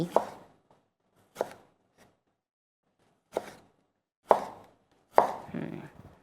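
Five separate knife chops through cucumber on a board at an uneven pace, close by, the last followed by brief rustling. No voices.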